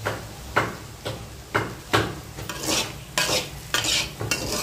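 A spoon stirs potato fry seasoned with salt and turmeric in a pan, giving roughly eight scraping strokes at a steady rhythm, close and moderately loud, with faint sizzling in between.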